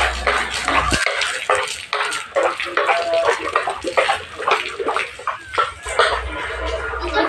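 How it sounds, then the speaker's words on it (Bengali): Water splashed across a rooftop in repeated throws, a busy wet slapping and spattering that stays close and fairly loud throughout, with a few faint knocks. "এবারে পুরো ছাতটাতে জল ছিটিয়ে দেবো ভালো করে।"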